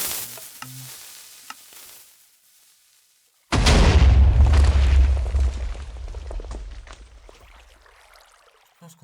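A TNT cannon in Minecraft goes off after a few quiet seconds with faint clicks: one sudden loud blast that rolls into a long crackling, fading rumble, no talking.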